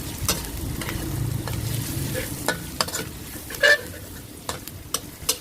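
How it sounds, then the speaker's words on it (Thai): Pounded garlic and black pepper stir-fried in a little oil in a pan, a low steady sizzle punctuated by sharp clinks and scrapes of a spatula against the pan, close and alone. "นำกระเทียมพริกไทยที่เราโขลกเตรียมไว้นะคะ ใส่ลงไปแล้วก็ผัดให้หอมดีเลยค่ะ"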